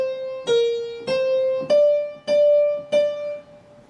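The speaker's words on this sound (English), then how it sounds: "we can use Mary Had a Little Lamb" A piano plays the opening phrase of Mary Had a Little Lamb, six clear single notes stepping down and back up in an even rhythm, close and alone.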